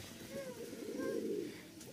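Soft low cooing from a pair of Pakistani high-flying Teddy pigeons, a steady murmuring coo rising and falling over about two seconds, close and fairly quiet.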